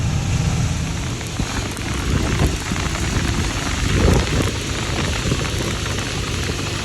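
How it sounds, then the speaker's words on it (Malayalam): Rain pours steadily in a heavy, continuous wash, with drops pattering on a surface and a low rumble swelling briefly. "പക്ഷേ കുഴപ്പമില്ലാത്ത മഴ പെയ്യുന്നുണ്ട്"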